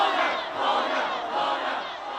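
A large crowd of protesters besieging the police headquarters in Hong Kong roars with sustained, loud shouting and chanting that swells and dips without a break.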